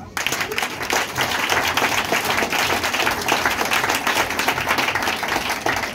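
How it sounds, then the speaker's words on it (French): A church congregation applauding during a French-language sermon, dense steady clapping from many hands that begins abruptly and holds strong for the whole stretch, fairly loud and close. "Acclamez ce matin."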